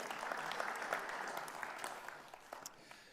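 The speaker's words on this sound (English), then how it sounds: "let's give them a round of applause again" A church audience applauds the builders who took the ceiling down, a soft, fairly distant patter of many hands that thins into a few scattered claps toward the end.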